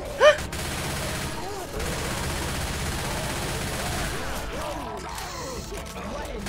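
A sharp crack opens a stretch of dense shooting in a zombie fight in Left 4 Dead 2, a continuous loud clatter of gunfire with voices talking underneath.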